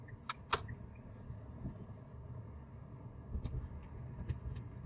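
A Tata Punch SUV rolls over a patchy, undulating road, its low rumble of tyres and suspension steady throughout with a few faint knocks and thumps near the start.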